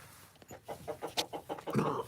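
Chickens clucking close by on a dark, cold homestead in a quick, uneven series of short clucks, building to a louder, squawkier call at the end.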